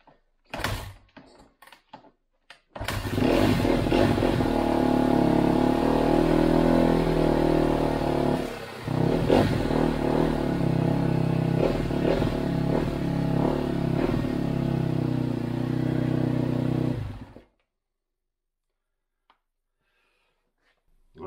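A 2011 Kawasaki KX250F dirt bike engine runs loud and close for about fifteen seconds, idling steadily with one brief dip partway through before cutting off, with clicks and clatter before startup.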